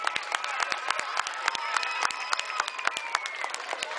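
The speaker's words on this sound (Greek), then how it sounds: "Ας χαιρετήσουμε όλοι με ένα θερμό χειροκρότημα τη Φλόγα που φεύγει." A crowd gathered outdoors in Livadeia applauds as the Olympic flame departs, with scattered individual claps and cheering voices spread across a moderate, slightly distant wash of sound, and a faint tone lingering underneath.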